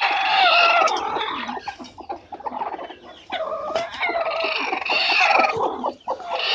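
Brooding hens sitting on eggs cluck steadily and busily, several birds close by with overlapping calls and an occasional louder squawk, no voices.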